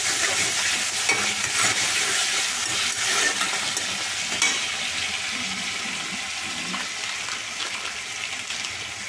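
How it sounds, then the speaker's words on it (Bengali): Spices with tomato and salt are stirred and fried in a pan for a Bengali potato-poppy-seed dish, giving a continuous, close, even sizzle with soft scraping throughout and no talking. "ভালো করে কষিয়ে নিই।"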